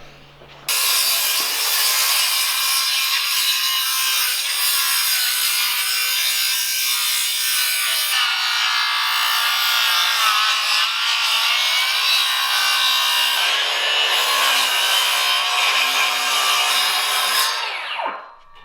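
Steady power-saw rip cut through a lumber board during bathroom framing, a loud sustained whine and rasp that starts abruptly, holds for about sixteen seconds with slight pitch shifts, then winds down.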